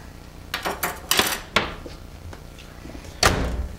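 Peanut brittle in a dish being taken out of a microwave in a kitchen, with a clunk of the door, clattering dish and spoon knocks and a final thump, close and without talk.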